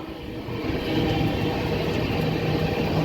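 An express train, the 22618 Bengaluru–Tirupati Intercity, rumbles steadily across a bridge near Katpadi Junction. The roar is loud and continuous, heard from on board, with broadband clatter and no voices.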